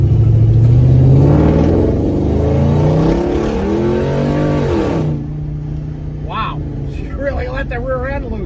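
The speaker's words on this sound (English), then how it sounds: "Let's give you a little acceleration here." A 1966 Chevelle accelerates hard, its engine revving up in rising sweeps close by before dropping back to a lower idle-like drone, with brief voices over the tail end.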